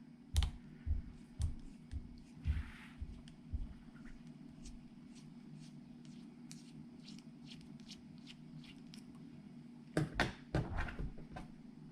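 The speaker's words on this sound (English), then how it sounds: "You unscrew the servo with these two little Allen screws here." Small Allen screws being turned out of an Axial SCX24 RC crawler servo, heard as faint, close clicks and scraping ticks in short bursts, with a cluster at the start and another near the end.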